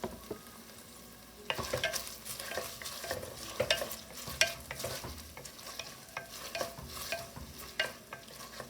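Vegetables sauté over lowered heat in a soup pot, a quiet hiss that grows busier as a spoon stirs and scrapes, with repeated clattering knocks against the pot.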